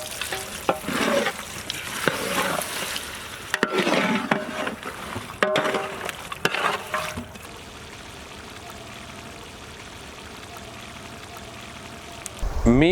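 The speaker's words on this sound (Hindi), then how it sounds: "मीट ऐड करे बाद इसमें ग्रेवी के लिए थोड़ा सा पानी भी ऐड करेंगे।" Water is poured into a pan of mutton and drumstick curry to make gravy, a loud splashing and sizzling pour that settles into a quieter simmer.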